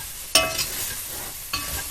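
A spoon stirs measured flour into a pot of old-fashioned hamburger stew, making two short scraping strokes over a faint sizzle, close and clear.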